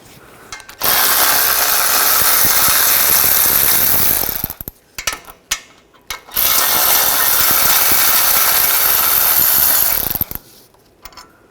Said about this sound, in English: Using a 18mm socket, take these bolts out.